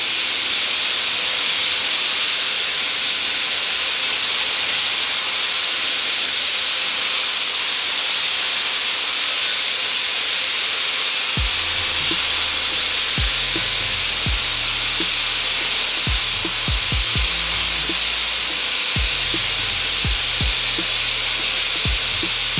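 A paint spray gun applies Plastidip to a car, a constant loud airy hiss that runs throughout, with irregular low pops and sputters joining midway as the gun begins to spit.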